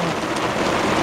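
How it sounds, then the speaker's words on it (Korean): Heavy rain pouring down in a steady, dense broadband hiss with a continuous wash of close drops and no break, loud and constant throughout. "와, 뭐 오래간만에 보는 대단한 빗소리입니다."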